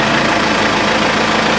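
A boat's diesel engine idles steadily just after a cold start with preheated glow plugs, a loud, continuous low rumble running evenly throughout with no talk.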